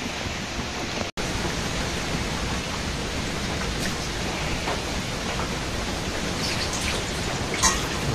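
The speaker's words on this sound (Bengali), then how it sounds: "ঝড় বৃষ্টির দিন, নিম্নচাপ," Steady rain falls on a stormy low-pressure day in a village, a dense even hiss throughout with a few sharper drop splashes and one brief gap early on.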